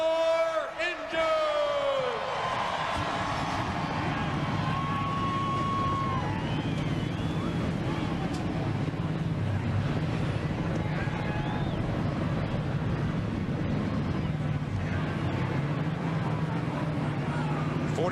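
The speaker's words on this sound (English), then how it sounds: "43 cars roar to life on pit road at the Lowe's Motor Speedway" Dozens of Busch Series stock car engines fire up together on pit road at Lowe's Motor Speedway, a dense, loud sustained roar of many motors idling and revving with crowd noise mixed in.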